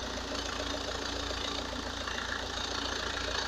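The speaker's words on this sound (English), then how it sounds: "The engine is working fine, we don't have any noises." An Opel Astra H 1.7 CDTI diesel engine idles steadily nearby, with a low rhythmic knocking chug and constant mechanical hum throughout.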